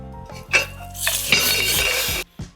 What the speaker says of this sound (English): So we just got to give this a little whisk, okay?